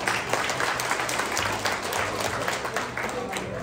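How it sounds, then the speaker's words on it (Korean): Audience applause at a hometown association's New Year gathering, a steady wash of clapping from a crowd lasting the whole stretch, with a low hum and some voices mixed underneath. "여러분 동의하시면 박수 한번 해주십시오."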